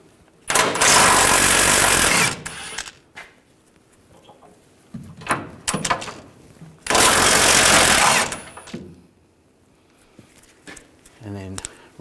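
Power tool fitted with an 18mm socket spinning nuts off a bumper bracket on a 2014-2018 GMC Sierra 1500, two loud sustained whirring bursts of about two seconds each, separated by quieter handling noise and some talking.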